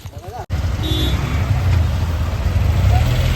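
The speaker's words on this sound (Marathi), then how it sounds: "सिद्धिवार रोड ट्रॅफिक बघा ट्रॅफिक" Road traffic on Siddhivar road, a narrow road lined with stalls: a continuous close roar of cars, trucks and buses with engine rumble and brief tonal beeps, a short break at the start and a voice talking briefly.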